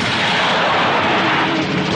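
A bomb planted in a car explodes in a Telugu action film scene, giving a loud, sustained booming roar that fills two seconds with no voices over it.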